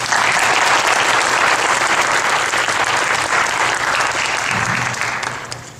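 A church congregation claps warmly to welcome the pastor to the pulpit before a sermon on Daniel, steady dense applause filling the room and tapering off slightly at the end.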